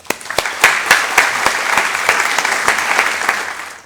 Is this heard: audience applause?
yes